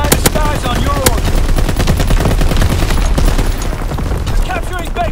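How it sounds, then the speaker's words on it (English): Anti-aircraft fire in the Call of Duty WWII multiplayer map Shipment 1944: dense, continuous rattling bursts of flak and gunfire throughout, loud and close, with game voice lines over it. "Anti-aircraft bursts commenced."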